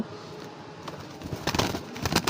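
Racing pigeons coo in a short series of soft low calls, alone and fairly close, over a steady background hiss.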